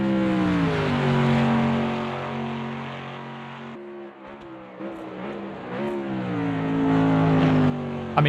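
Throaty engine of a Mercedes AMG race car in the Automobilista 2 video game revs and drops through gear changes, rising and falling repeatedly and growing louder toward the end, with no voices.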